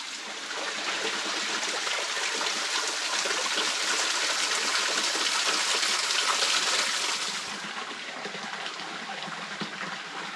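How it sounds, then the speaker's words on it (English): A small stream of water trickles down a side track near Bowen Mountain in the Hawkesbury district, a steady, fairly close babbling flow that eases slightly toward the end, with no voices. "There's not a lot of water coming down, but it's very nice."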